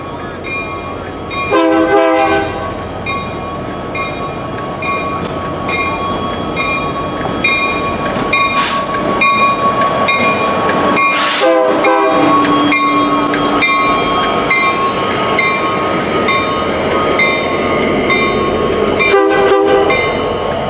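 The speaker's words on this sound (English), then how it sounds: "We then watched as Union Pacific 4380 and EMD SD70M, built in 2001, rolled by us." Union Pacific 4380, an EMD SD70M locomotive built in 2001, rolls past close by with a loud steady rail rumble and several sustained multi-tone horn blasts.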